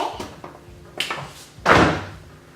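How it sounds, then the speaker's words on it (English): Honda Element car door slammed shut, preceded by a couple of fainter clicks and thumps of the latch and handle, ending in one loud, close, solid thunk with a short ring-out. "give us a closed door now, if you could, please, ma'am"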